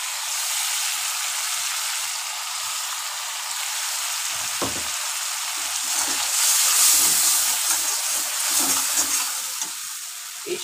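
Sesame and green chili paste hits a hot pan and sizzles steadily, with scattered stirring scrapes and small pops close by, no voices.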